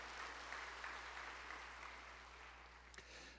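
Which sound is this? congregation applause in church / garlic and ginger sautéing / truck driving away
congregation applause in church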